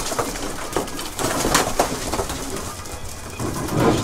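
Pigeons coo inside a pigeon loft, soft throaty calls repeating close by over a rustling background of wings and movement.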